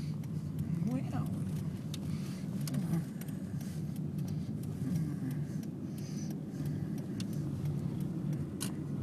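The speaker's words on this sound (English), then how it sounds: "you've got traffic screaming up and down in front of it" Steady car traffic on a busy city road in Bondi, a continuous broadband rumble of passing vehicles throughout, with faint voices in the background.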